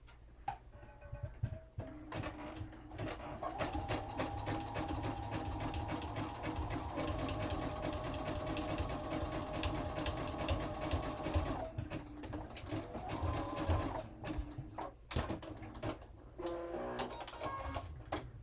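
A sewing machine runs a steady zigzag stitch on jeans for an upcycled bracelet, with a fast, even mechanical whir and ticking close up, a few short stops and restarts, and no speech.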